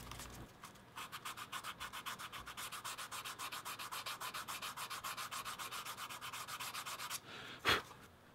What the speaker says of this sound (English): And then we'll do our normal quick sand with like 300 or 400 grit and then burnish.